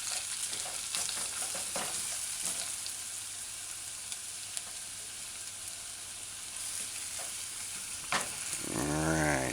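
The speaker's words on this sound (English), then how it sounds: "Just allow it to saute about 30 seconds, 30 between 40 seconds, but don't allow it to burn." Pork and peppers sauté on low heat in a pan with a quiet, steady sizzle, and light stirring clicks now and then near the end.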